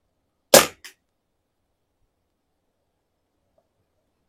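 A single sharp, muffled pop from an Artemis CP2 air pistol fitted with a sound suppressor, with a short echo-like tail, then silence, and a faint second shot starting at the very end.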